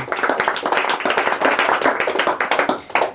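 A classroom group clapping steadily, a quick patter of many hands that swells and slightly eases, with no talking over it.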